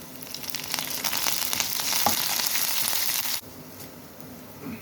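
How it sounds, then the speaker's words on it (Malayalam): Curry leaves drop into hot oil for a coconut dry chutney, giving a bright, close sizzle that surges, holds steady for a few seconds, then drops abruptly to a quieter crackle. "ഇനി കുറച്ച് കറിവേപ്പിലയും കൂടെ."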